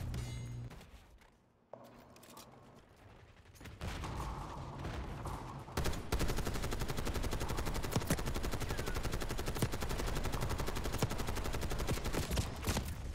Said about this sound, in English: Boy, I fired so many rounds and didn't kill three people